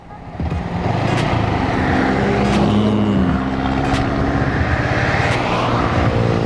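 A Yamaha R15 motorcycle with a quick shifter pulls hard up through its gears, a loud, steady high engine drone with brief dips and clicks at each snappy shift, close to the microphone.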